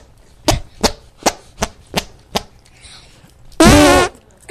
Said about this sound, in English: How long have you been doing arm farts?